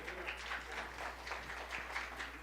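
Modest audience applause at a small music café, a soft, steady patter of many hands clapping at a distance with a low hum underneath, no voices over it.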